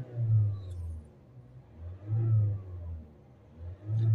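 A 2.0 diesel engine in a Land Rover Discovery Sport, just after DPF cleaning, revs three times in steady cycles, each swelling and falling back to idle, heard clearly at close range.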